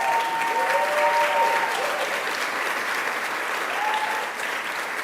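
Steady, dense applause from an audience at a Long Island resiliency announcement with Governor Hochul, a loud continuous wash of clapping that holds for several seconds, with faint tonal traces and murmur mixed underneath.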